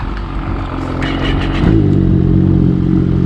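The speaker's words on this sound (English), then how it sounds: "let's warm up the sleds." Snowmobile engines warm up outdoors in frozen conditions, a loud close idling rumble that swells and grows steadier partway through.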